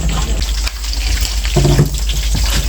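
Running tap water splashes in a kitchen sink as food is rinsed for a last wash, loud and close, with sloshing and handling noises rising about halfway through.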